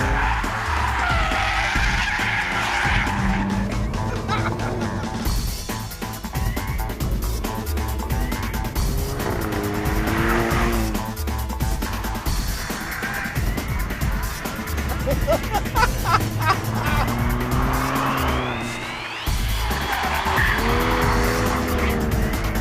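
An Alfa Romeo 4C, Porsche Cayman and Toyota GT86 lap a race track, engines revving and shifting with repeated tire squeal and skidding, loud and close, partly under music and a talking voice.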